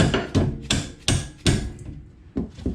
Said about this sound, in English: Now I just have a regular dead blow, won't damage anything. Give it a couple whacks.